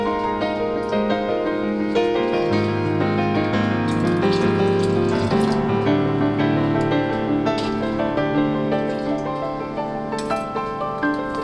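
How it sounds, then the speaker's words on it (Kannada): Water pours steadily into a pot of thick spinach and jackfruit-seed curry (saaru) in a home kitchen, with a faint clink of cookware. The pour runs continuously over a sustained musical background. "ಅದಕ್ಕೆ ಇನ್ನೊಂದು ಸ್ವಲ್ಪ ನೀರು ಹಾಕ್ಕೊಳ್ತಾ ಇದ್ದೀನಿ"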